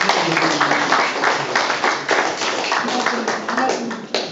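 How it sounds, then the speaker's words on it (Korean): Attendees at a Korean association board meeting in Atlanta clap in welcome, a steady patter of hands close by, with people talking over it throughout. "우리 박수로 일단 환영을 좀 해주시겠습니다"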